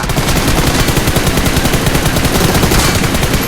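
Dense, loud, continuous automatic gunfire rattles without pause in PUBG Mobile on the Rondo map, close and harsh, with no talking.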